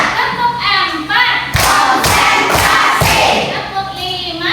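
A classroom of children clap in unison, counting one to five: a run of sharp group claps building to about five loud, evenly spaced bursts, close and full, with a teacher's voice and children's chatter around them.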